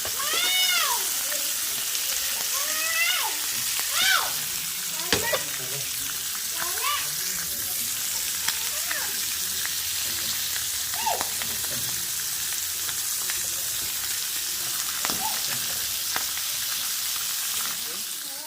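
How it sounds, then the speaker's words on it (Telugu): Fish fries in hot oil, with a loud continuous bubbling sizzle and scattered sharp crackles and pops throughout, heard up close and without talking. "బాగా కాలిన తర్వాత కలర్ వేసుకుంటూ ఉండాలండి ఇట్లయితే మనకి చేపలు అనేవి చీదరవ్వకుండా బాగా ఫ్రై అవుతాయి"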